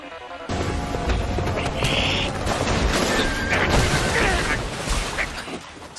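A horse neighs amid loud crashing and booming action in an Attack on Titan anime scene, its whinny rising over dense, chaotic noise that runs throughout.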